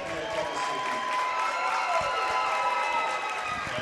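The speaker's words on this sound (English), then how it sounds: "but it's a good crowd." A crowd in a gym at a boys' high school sectional basketball game makes a steady murmur of voices with scattered cheers and claps, filling the room evenly.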